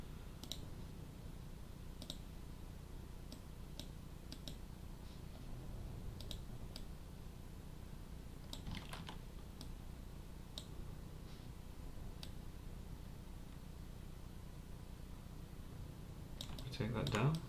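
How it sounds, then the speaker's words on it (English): Computer keyboard keys tapped during 3D car modeling work, scattered faint clicks and single presses spread across a quiet room tone, with a louder cluster near the end. "I'm going to hit B on my keyboard for soft selection."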